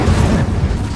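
Incendio fire spell cast in Hogwarts Legacy, a short whooshing burst of flame with a low booming rumble, loud and close.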